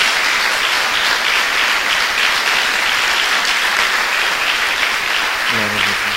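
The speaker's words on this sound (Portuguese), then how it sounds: "Dê uma salva de palmas ao nosso Deus." A church congregation claps steadily and loudly throughout, dense applause filling the space, with a low voice briefly emerging at the very end.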